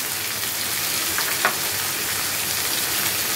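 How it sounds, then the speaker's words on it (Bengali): Spices, salt, turmeric, chili powder and cumin powder, are sautéed in a frying pan, making a steady close sizzle with one brief scrape of stirring partway through. "ভালো করে এটাকে আমি কষিয়ে নেব"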